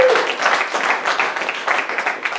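An audience at a comedy show claps, a brisk wash of hands that swells and eases in small waves, close and fairly loud with no talking over it.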